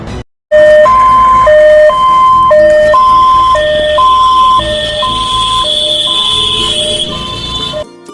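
Ambulance siren from an ambulance service in Durgapur offering ICU and NICU units, a steady two-tone wail alternating high and low notes in a regular rhythm, loud and close, with no talking over it.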